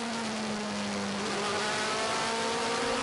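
Onboard engine sound from a Phoenix Audi DTM race car at Spielberg, a loud continuous high-revving drone with a steady pitch, no talk over it.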